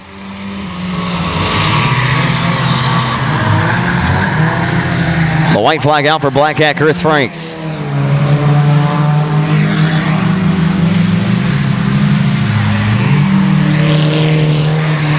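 Four-cylinder factory stock race cars on a dirt oval at Boothill Speedway, engines roaring loud and close with a sweeping pass-by, under a race announcer's commentary.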